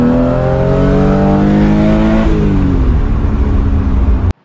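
A BMW E36 M3 Euro Spec six-cylinder engine revs hard while driving, pitch climbing then dropping through a downshift, loud and close with no talking.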